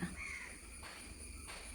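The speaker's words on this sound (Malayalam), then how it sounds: "കാക്കകളൊക്കെ കരയുന്നുണ്ട് കിളികളൊക്കെ ചിലയ്ക്കുന്നുണ്ട്" A faint caw from a crow sounds at a distance against steady outdoor background hiss.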